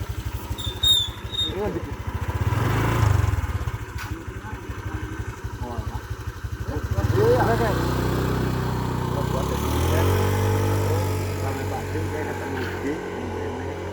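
A motorcycle engine straining as it rides uphill, a loud low throbbing drone that rises and shifts pitch as the rider climbs, with people talking over it.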